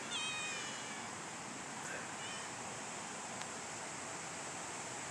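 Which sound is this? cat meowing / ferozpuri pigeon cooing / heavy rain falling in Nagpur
cat meowing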